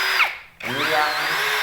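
An APR power drill spins in its lowest RPM setting, a steady whine that cuts out briefly and then spins back up, near and alone.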